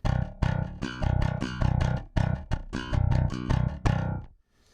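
Picked notes on an Ormsby Bass GTR 6 six-string bass, played direct through a DI: a steady run of sharp plucked attacks with ringing low harmonics, loud and close, ending abruptly into silence.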